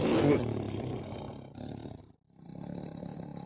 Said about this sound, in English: Ooh, the tiger growls.